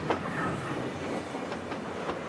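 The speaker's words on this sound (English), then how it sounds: "This long train of 85 cars actually took over 3 minutes to pass this location" A long 85-car freight train hauled by AC locomotives and an SD40 tunnel motor rolls past on a mountain grade, a steady rumbling wash of wheel and car noise with faint rhythmic clacks, continuous and fairly near.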